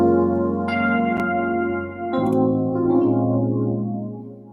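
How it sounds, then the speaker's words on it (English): An LA piano electric piano sound plays a sustained chord with an added ninth and then a second chord. The tone is bell-like and clear, with decaying overtones, and no talking is heard. "let's say you use an EP sound like this LA piano"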